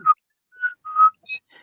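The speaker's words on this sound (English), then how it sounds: "we'll whistle and see if we get anything back" A person whistles a few short, clear notes with gaps of silence between them, heard alone and fairly close in a quiet setting.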